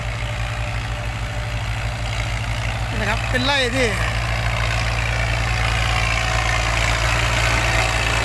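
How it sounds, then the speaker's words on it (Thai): A walking tractor engine runs in a sugarcane field with a steady, rapid low chugging that goes on throughout at close range, while someone talks over it. "เขาจะใช้รถไถโยกนี่แหละ"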